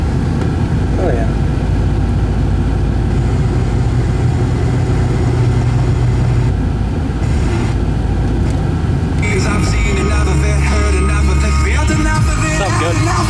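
A 1973 Gran Torino Sport engine idles with a low, steady rumble that continues throughout, close and fairly loud, while people talk over it and the engine briefly swells near the end.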